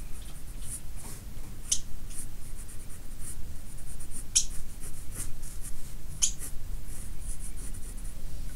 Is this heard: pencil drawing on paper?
yes